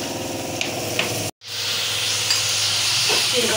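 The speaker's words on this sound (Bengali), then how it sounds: "এই যে পেঁয়াজ দিলাম" Onions sizzle and hiss steadily in hot oil while being fried for a chepa shutki (fermented dried fish) bharta. The sizzle is close and continuous, with a brief dropout partway through.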